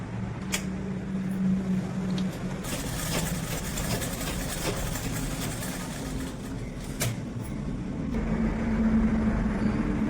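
A sewing machine stitches the lining of a blouse with a steady, low mechanical hum and a few sharper clicks throughout, fairly close and continuous.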